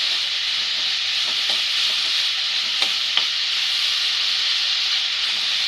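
Chopped carrot and capsicum sauté in an oiled pan for a veg bread omelette, a loud steady sizzle with occasional faint spatula clicks and no talking.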